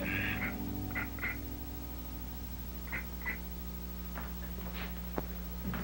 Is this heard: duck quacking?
yes